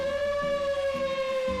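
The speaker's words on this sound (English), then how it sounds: "the tornado siren located west of the field house will sound and can be heard" A campus tornado warning siren west of the field house sounds as a loud, sustained steady tone, holding one pitch with no talk over it.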